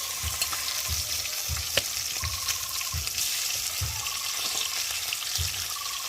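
Lailontika fish fries in hot oil on a flat griddle over a wood fire, with a steady bright sizzle and crackle and rhythmic low scrapes of a spatula turning the pieces.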